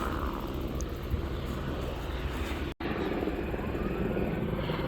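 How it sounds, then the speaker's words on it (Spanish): Helicopters flying over a rural area with cattle during a nearby fire, a distant steady rotor drone and low rumble with a brief dropout midway. "Ahí van los helicópteros."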